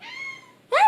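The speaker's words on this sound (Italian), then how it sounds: "Gatto!" A house cat meows twice up close: a long, drawn-out tonal cry followed after a brief gap by a louder, sharper meow.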